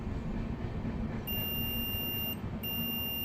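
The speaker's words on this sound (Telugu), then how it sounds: "సర్క్యూట్ క్లోజ్ అయితే బీప్ సౌండ్ వస్తుంది" A multimeter's continuity tester beeps as its probes touch and close the circuit during a delivery-robot build. Two steady high-pitched tones, the first about a second long and the second continuing to the end, sound over a constant low background hum.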